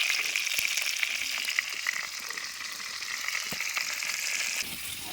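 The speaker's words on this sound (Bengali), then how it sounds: "প্রথমেই আলুগুলো ভেজে নেব, আর আলুতে একটুখানি লবণ আর হলুদ দিয়ে দেবো। এবার আস্তে আস্তে আলুটা ভাজা হোক।" Potatoes seasoned with salt and turmeric fry in a clay kadai over a traditional stove, giving a continuous bright, crackling sizzle with occasional soft knocks and clicks.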